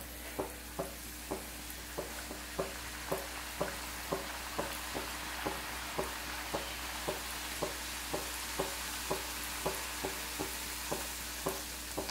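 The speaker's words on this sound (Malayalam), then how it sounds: "ബാക്കിയുള്ളതും ഇതുപോലെ തന്നെ നമുക്ക് ഫ്രൈ ചെയ്തെടുക്കാം" Poori deep-frying in hot oil, a steady sizzle with faint regular ticks and pops repeating about every half second throughout.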